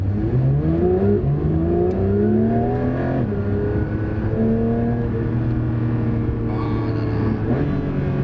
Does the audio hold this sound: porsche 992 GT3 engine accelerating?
yes